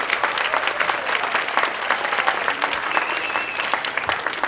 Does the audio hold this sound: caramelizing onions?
no